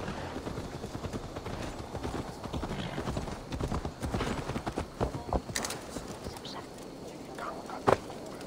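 Horse hooves clip-clop steadily at a moderate distance in the video game Assassin's Creed Valhalla, mixed with ambient game sounds and a few faint voices.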